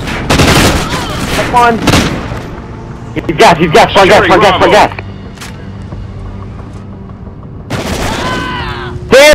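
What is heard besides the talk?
gunfire in a shooter video game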